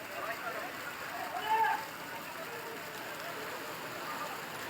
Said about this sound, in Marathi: अमरावती शहरामध्ये सुद्धा वादळी वाऱ्यासह जोरदार पाऊस बरसला।